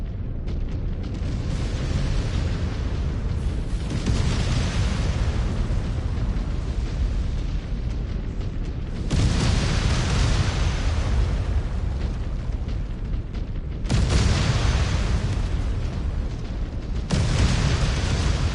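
Explosions of a destroyed mech in the video game MechWarrior 5: Clans, several loud rumbling booms in succession, each bursting in and rolling on in a continuous heavy roar with no talking.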